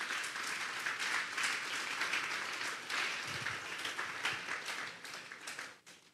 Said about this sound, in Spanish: Vamos a darle un fuerte aplauso al Espíritu Santo esta noche.